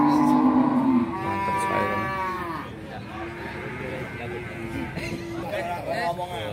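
Jumbo cattle at the Gorang Gareng livestock market in Magetan, with several long, loud moos close by and more cattle lowing further off, over a busy market murmur.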